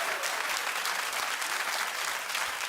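Studio audience applause on a daytime talk show fills the room, dense and steady throughout with no clear speech over it.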